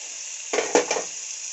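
Onions dropped into hot oil for baby corn chicken samosa filling, a brief burst of crackling sizzle over a steady background hiss.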